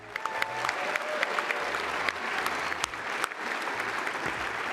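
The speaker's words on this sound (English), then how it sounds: "Please join me in giving the deans another round of applause." An audience applauds engineering deans at a recognition event for HBCU engineering deans, dense steady clapping holding throughout at a moderate level without talk.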